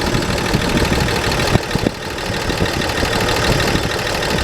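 A rebuilt carburetor engine idles steadily through a test run after installation of the carb, air cleaner and thermostat; a loud, continuous close rumble with light irregular knocking and no talking.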